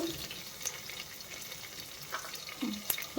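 Chilies, cumin and mustard seeds fry in hot oil, a soft steady sizzle with faint stirring clicks and a few brief pops, heard alone and quiet.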